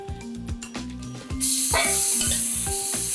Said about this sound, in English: we're just going to add the chicken and fry it in butter